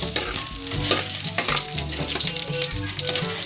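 Ginger and garlic fry in a pan with a loud, continuous close sizzle, broken by stirring scrapes and clatter.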